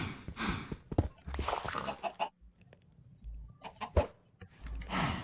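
A chicken in the video game Minecraft clucks in a series of short, scattered bursts at moderate volume, with brief quiet gaps between them.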